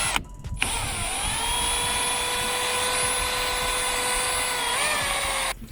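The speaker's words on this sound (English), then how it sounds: "I'm just gonna drill it right near there." A power drill whines steadily for about five seconds, boring a hole in the front bumper of a JZX100 Chaser, close and fairly loud with a brief pitch dip near the end.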